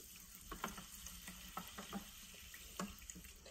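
Water being stirred in a glass makes faint, irregular clinks and light swishing over a hissy background, with no talking.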